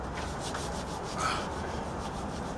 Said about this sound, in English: Needs a little sanding.